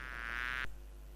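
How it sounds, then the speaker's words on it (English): A bee flying over a field of pink flowers makes a close, loud, steady buzz that cuts off abruptly partway through, leaving a low hum. "The bee is flying around in the field of pink flowers."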